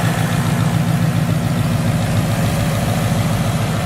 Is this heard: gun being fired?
no